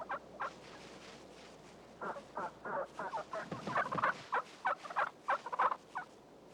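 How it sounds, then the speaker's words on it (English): A wild turkey gobbling outdoors, a run of short, rapid, rattling calls in quick bursts, coming closer and growing louder toward the end, with no talk over them. "The wild turkey."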